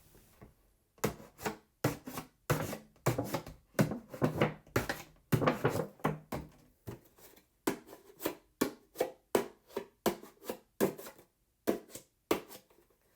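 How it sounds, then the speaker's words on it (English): A plastic milk jug being cut open to make a winter sowing container, a series of quiet rasping, scraping strokes repeating in an irregular rhythm with short pauses, close and alone. "I leave one side as the hinge, and then I cut here, here, and here."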